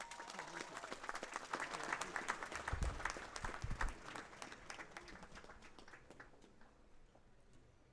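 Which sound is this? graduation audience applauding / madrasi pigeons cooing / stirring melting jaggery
graduation audience applauding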